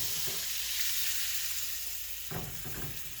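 Butter and squash sizzle steadily in a hot frying pan, a close, constant hiss with a couple of brief clatters from the pan near the end and no voices.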